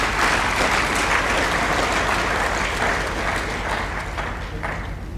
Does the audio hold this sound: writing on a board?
no